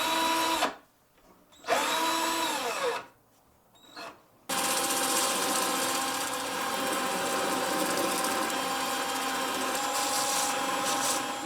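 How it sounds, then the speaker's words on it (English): A power drill whirs steadily, spinning a homemade arrow shaft with a gritty rubbing of sanding against it, after a few short starts and stops. "We're going to sand it on both sides."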